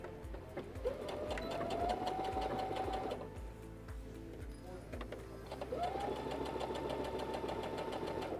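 Domestic sewing machine stitching a fabric border onto a kitchen towel, a steady close whirring hum in two runs with a brief slowdown between them.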